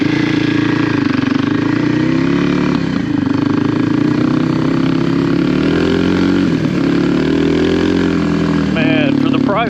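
A Kawasaki KLX300R dirt bike engine runs loud and close on a test drive, a steady buzzing drone that rises and falls gently with throttle, with a brief higher revving flutter near the end.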